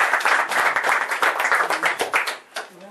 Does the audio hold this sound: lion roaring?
no